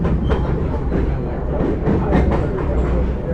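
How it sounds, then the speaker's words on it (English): A freight train carrying a BNSF auto rack railcar rolls past close by, a steady loud rumble with faint rhythmic clacking of wheels over the rail joints. "there's a BNSF auto rack"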